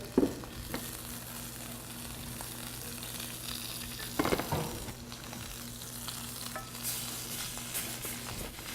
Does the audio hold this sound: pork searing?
yes